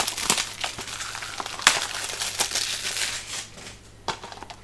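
Plastic DVD packaging being opened by hand, giving a run of close, sharp crinkling and cracking bursts that come in irregular bursts, then a quieter stretch and one last crackle near the end.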